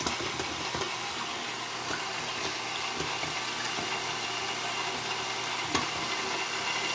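An electric stand mixer fitted with a shield churns yeast roll dough, giving a steady, continuous whirring drone with a faint rattle, close by and with no talking.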